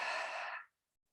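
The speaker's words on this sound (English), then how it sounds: "Then open the lips to exhale." A single deep exhale through open lips during a yoga breathing practice, close and steady for about half a second before cutting off into silence.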